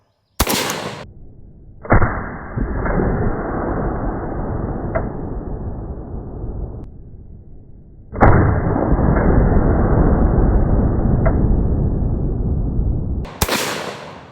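Modern rifle loaded with black powder rounds fires two loud, close shots several seconds apart, each blast followed by a long, sustained noisy ring-out and a sharp click near the end.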